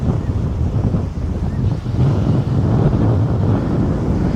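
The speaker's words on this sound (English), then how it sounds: "I'll try to keep facing away from the wind so you don't hear it" Steady, loud winter wind buffets the microphone outdoors at a truck campsite with a low, rumbling roar that barely lets up.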